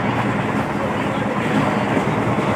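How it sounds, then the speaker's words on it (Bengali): A passenger train, Secunderabad to Cooch Behar, begins moving at night, giving a steady, dense rumble of wheels and carriage noise that stays even and close throughout, with faint voices in the background. "তবে ট্রেনটা অন্ধকারের মধ্যে চলতে শুরু করলো"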